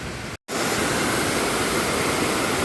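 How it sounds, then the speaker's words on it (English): Hat Yai waterfall roaring as a dense, steady rush of falling water, loud and continuous, with a brief drop-out near the start and no talking. "Look at that, how beautiful it is. This is the real waterfall."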